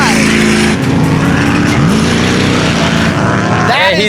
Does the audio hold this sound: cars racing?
yes